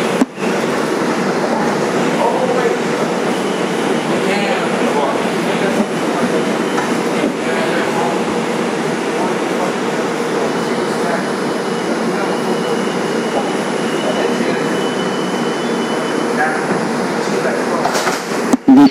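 Interior of a 2001 Bombardier New York City subway car, #6676 on the 2 train, IRT White Plains Road Local, rumbling steadily throughout with wheel clatter and occasional squeal; automated station announcements play over the noise.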